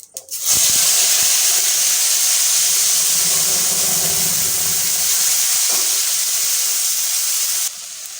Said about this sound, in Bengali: সামান্য একটু জিরে ফোড়ন দিয়ে দিচ্ছি এখন দিয়ে দেব মশলা পেস্ট